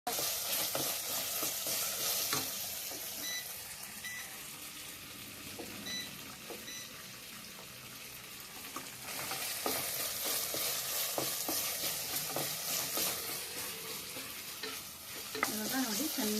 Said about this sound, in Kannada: ಚೆನ್ನಾಗಿ ಹಸಿ ವಾಸನೆ ಹೋಗೋವರೆಗೂ ಅದನ್ನು ಫ್ರೈ ಮಾಡೋಣ.